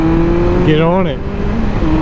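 A 2013 Honda CB1100 motorcycle engine drones steadily while riding, then rises in pitch as it accelerates and settles again, with someone talking over it close to the microphone.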